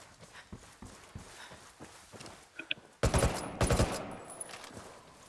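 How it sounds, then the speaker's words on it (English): Heavy gunfire erupts in Ghost Recon Wildlands, with a rapid loud burst of automatic shots after quieter scattered pops and footsteps, the firing dense and close. "Taking heavy fire."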